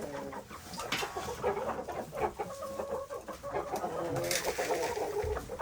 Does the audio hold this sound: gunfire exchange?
no